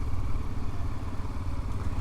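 A Yamaha Ténéré 600 motorcycle engine runs steadily up close, a continuous low rumble with a slight clattering texture throughout, heard on the road between Piauí and Maranhão on the Transamazônica.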